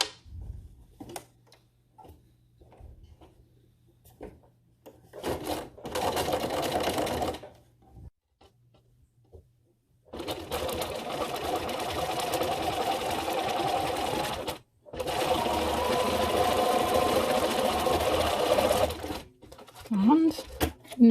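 A sewing machine stitches two layers of fabric together for a nautical face mask with an attached necklace, running in three sustained bursts separated by pauses, with someone talking softly in the quiet gaps.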